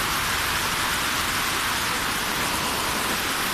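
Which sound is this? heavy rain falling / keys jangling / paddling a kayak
heavy rain falling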